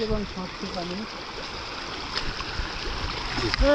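River water rushing over stones at White Stone, a steady, broad wash of flowing water with voices talking faintly over it.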